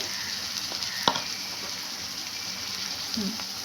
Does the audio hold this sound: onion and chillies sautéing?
yes